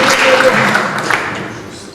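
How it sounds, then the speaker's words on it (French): Audience applauding an author at a medical conference on mitral valve repair, a dense, fairly loud burst of clapping that gradually thins out. "C'est à l'auteur que sont destinés ces applaudissements."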